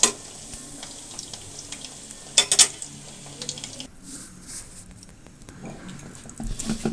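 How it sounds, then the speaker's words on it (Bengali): Pieces of food fry in a pan in batches with a low, steady sizzle, broken by a few sharp utensil clinks and scrapes as pieces are turned and removed, with no talking. "এইভাবে করে আমি সবগুলো ভেজে নেব"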